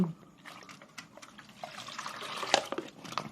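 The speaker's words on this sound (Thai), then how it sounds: "คนส่วนผสมทุกอย่างให้เข้ากัน" Liquid fertilizer mixture of plant ingredients being stirred for feeding chili plants, giving a soft continuous sloshing and trickling with small drips, fairly quiet and steady, with no talking.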